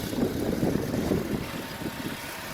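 An Acura RSX engine with a failed thermostat idles steadily a little high, a continuous low rumble with no change in pace, heard close by and without talk.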